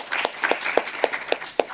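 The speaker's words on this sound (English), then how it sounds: "Let's get one more round of applause for Toddi and our speakers" Sparse applause from a small audience for speakers at a climate changemakers session, a handful of separate claps in a steady rhythm, moderately quiet and thin, as if from few people or a small room.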